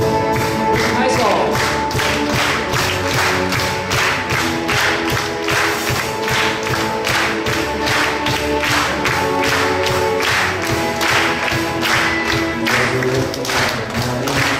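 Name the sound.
congregation clapping hands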